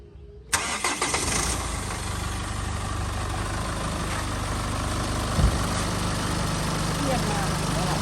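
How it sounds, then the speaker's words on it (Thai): A 2012 Chevrolet Colorado four-door with a 2.5 diesel engine cranks and fires, then settles into a steady, close, even diesel idle that runs on alone to the end. "เสียงเครื่องนะ"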